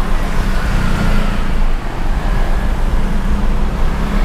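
Steady, loud road and traffic roar pours in through an open side window of a 2019 Mitsubishi Xpander Cross while driving, a continuous wash of tyre and engine noise from outside with no speech.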